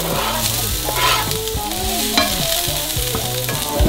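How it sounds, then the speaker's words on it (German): Steady sizzling and crackling of onions frying in a pan, with occasional stirring scrapes, continuous and fairly close, no talking. "Jetzt natürlich Zwiebeln anbraten."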